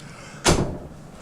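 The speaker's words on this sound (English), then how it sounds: "I gotta shut the door because." A door shuts with a single sharp thud in a quiet room, one loud broadband impact with a short decay and no talking.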